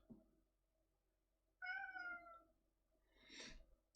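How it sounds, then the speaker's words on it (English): A cat gives a clear meow, followed a moment later by a shorter, breathier second call, both fairly close in a quiet room. "I have a cat recently brought in from the outside, and he's meowing at me for attention"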